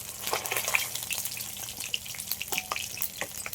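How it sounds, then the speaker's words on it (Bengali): Oil left in the pan after frying rupchanda fish crackles and sizzles quietly, scattered sharp pops over a low hiss, with no talking. "মাছ দিয়ে মাছ ভাজা তেলের মধ্যে দিয়ে দিচ্ছি গ্রেট করে রাখা পেঁয়াজ"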